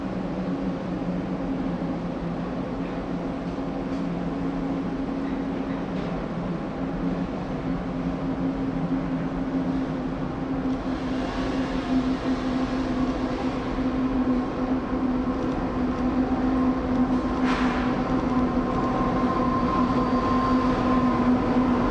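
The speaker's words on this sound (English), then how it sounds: "CPKC 800 emerges from the trees and slows on the approach to the yard" CPKC 800, a freight train in the Canadian Rockies, rumbles and hums steadily as it slows on the approach to the yard near Revelstoke, with a sustained engine drone and faint squeals over continuous rail noise and no talking.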